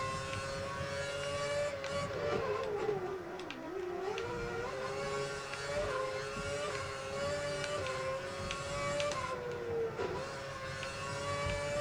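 A Williams Formula 1 car in the racing game F1 2011 screams at high revs, its pitch dipping and climbing through gear changes and corners in a continuous, loud drone.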